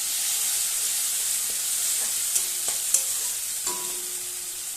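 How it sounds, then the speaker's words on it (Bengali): Cumin and green chilli paste frying in a pan makes a continuous close sizzle, broken by a few faint clinks of a spatula against the pan; no one speaks. "জিরে কাঁচা লঙ্কাটা একটু মোটামুটি ভাজা ভাজা হয়ে গেছে।"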